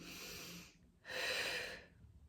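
A person exhales hard through the mouth during a core-strengthening exercise, two long breathy whooshes separated by a brief pause, close and fairly loud with no talking.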